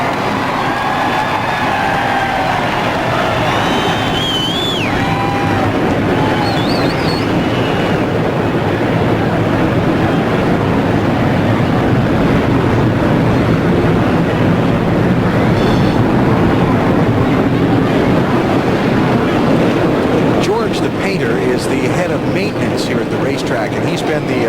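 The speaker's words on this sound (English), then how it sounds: "Ladies and gentlemen, start your engine." NASCAR race cars at the 2004 Food City 250 fire up their engines together on the starting grid, a dense, loud, continuous roar of many V8s with shifting revs, crowd and announcer voices blending into the din.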